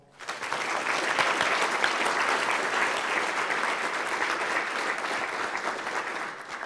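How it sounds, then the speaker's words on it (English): Sustained audience applause after a talk at an Elixir programming conference, a dense wash of clapping that swells quickly, holds steady for several seconds, then begins to thin out at the end. "Go ahead and give him a round of applause."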